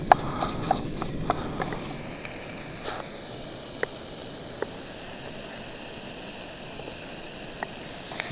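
Food sizzles steadily in a pan outdoors at night by a lake, a soft hiss dotted with sharp little pops and crackles, close by and without talk.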